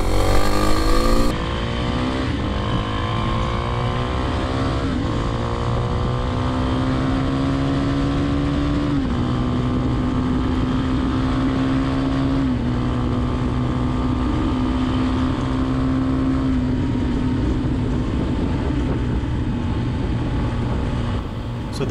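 A 2021 Kawasaki KLX300 dual-sport motorcycle accelerates hard on a US freeway, its engine note climbing steadily in pitch through several gear shifts, loud and continuous over steady wind roar.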